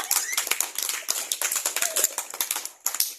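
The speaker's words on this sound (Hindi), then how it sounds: "जोरदार ताली बजाए सभी लोग" A group of children claps briskly and unevenly in a classroom, sharp close hand slaps tumbling over one another, with a faint voice or squeal briefly mixed in.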